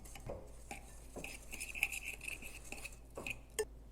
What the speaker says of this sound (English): Whisk those two together